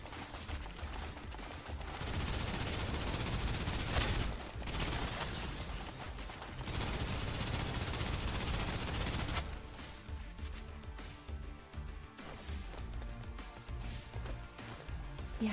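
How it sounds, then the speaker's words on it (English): Gatling guns fire in sustained rapid bursts during a fight in the shooter game Snowbreak: Containment Zone, loud and dense with brief pauses, then a quieter stretch with lighter shots. "I have to deal with not one, but two Gatling guns."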